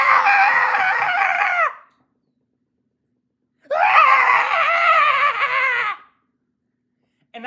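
A person's voice imitates a long, wailing, longing scream, delivered as two loud, sustained, warbling cries separated by a pause.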